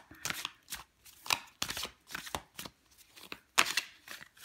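A deck of tarot cards shuffled and drawn at close range, giving quick papery riffles and sharp snaps in an uneven rhythm, heard alone without talk.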